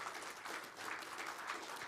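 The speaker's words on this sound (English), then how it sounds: "I would like us to applaud our speakers" Audience at a green roads training workshop applauding the speakers, a steady, fairly faint wash of many hands clapping throughout with no voices over it.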